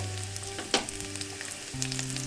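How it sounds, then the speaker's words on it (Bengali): Steady sizzling of garlic, nigella seeds and green chilies frying in hot mustard oil, with a brief clatter of stirring partway through; close and continuous, no voices. "রসুন, কালো জিরে, কাঁচা লঙ্কা ভাজা হয়ে গেছে।"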